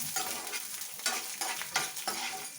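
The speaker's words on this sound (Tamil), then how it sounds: "கொஞ்சம் லைட்டாக வதக்கிறேங்க" Ginger and garlic cloves for coriander chutney sautéed lightly in a pan, a steady sizzle broken by repeated scraping strokes of a spoon stirring, close and fairly loud with no talking.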